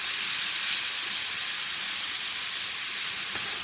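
Rib tips brown in a hot pan, giving a steady, loud, broadband sizzling hiss that carries unbroken from start to finish with no talking.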